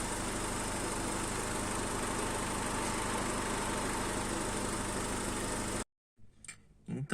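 A rebuilt 1996 Honda Civic with a D16Y8 engine runs steadily at idle, a loud continuous hum that cuts off abruptly near the end, followed by brief faint noises.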